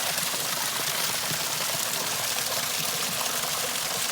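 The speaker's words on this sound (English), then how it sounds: "the fern grotto follows up through the next portion of the waterfall coming from this" A garden waterfall pours steadily into a pond beside a fern grotto, a continuous close rushing and splashing wash with no pauses.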